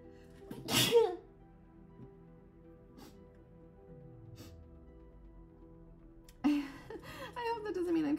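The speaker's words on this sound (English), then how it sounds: "my sneeze" A single sharp sneeze bursts out early, loud and close, followed by quieter murmurs and speech from the same person at a drawing desk.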